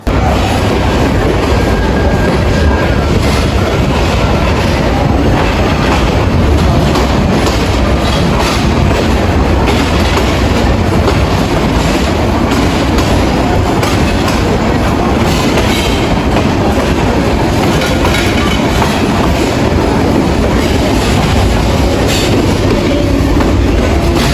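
The Rangpur Express night train runs from Rangpur toward Dhaka, its carriage wheels clattering in a steady rhythmic clickety-clack over a loud continuous rumble, heard from inside a coach.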